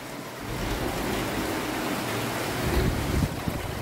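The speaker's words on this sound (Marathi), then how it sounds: "कितलो व्हडलो वारो येयलो पळय." Strong wind roars steadily against the microphone in a rushing, buffeting wash that swells slightly near the end, with no voices heard.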